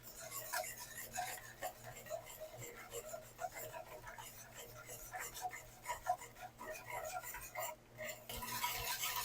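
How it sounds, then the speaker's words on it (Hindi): Yogurt mixed with spices in a bowl for Karachi-style chicken korma, a soft continuous scraping and rubbing of a spoon through the thick mixture, fairly faint and close, with brief clinks along the way. "इन तमाम चीज़ों को आपने अच्छी तरह मिक्स करना है"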